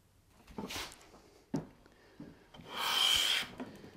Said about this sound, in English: Now you carry on planing until you hit the mark from the marking gauge